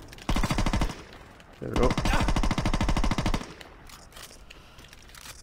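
Rapid automatic gunfire in the video game Saints Row 2 comes in two loud bursts, a short one and then a longer one, with someone talking briefly.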